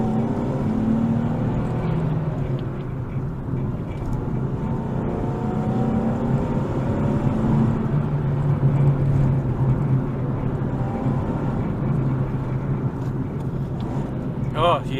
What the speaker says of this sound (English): I've selected S mode for the transmission, so that'll give me that little throttle blip, a little bit of theater